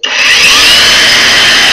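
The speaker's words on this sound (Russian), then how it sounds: "Запускаем нашу болгарку." A LUDYVI LB130 cordless angle grinder switches on with a sharp onset, its motor winding up within a fraction of a second into a loud, steady high-pitched whine that holds alone and close.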